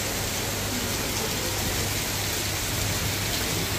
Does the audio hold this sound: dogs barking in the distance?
no